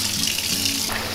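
Water runs from a kitchen sink tap in a steady hissing stream, close and fairly loud, briefly shifting in tone near the end of the short burst.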